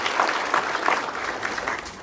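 An indoor audience at a meeting applauds steadily, a dense sustained patter of many hands clapping together throughout.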